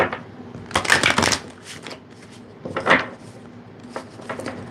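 Tarot cards riffled and shuffled in several quick bursts, close and crisp, with short pauses between; no talking.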